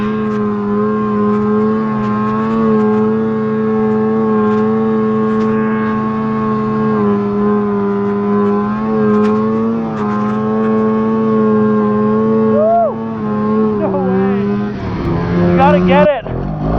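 Vintage two-stroke snowmobiles riding a deep, soft back-country trail: a steady droning engine hum with strong tonal harmonics, rising in pitch toward the end as the engine revs up, loud and close.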